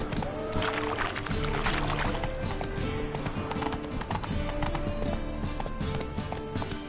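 Roach the horse galloping in The Witcher 3, a rapid rhythmic clip-clop of hooves running continuously over game music, no speech.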